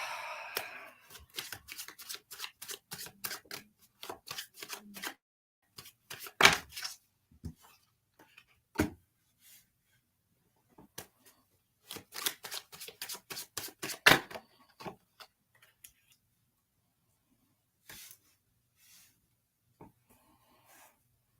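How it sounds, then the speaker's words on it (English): Playing cards are shuffled and riffled during a psychic reading, bursts of quick papery flutters in separate clusters with quiet gaps between them, close and soft. "Cards don't want to shuffle"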